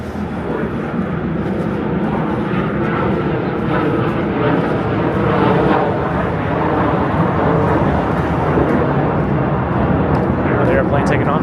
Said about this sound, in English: The airplane taking off.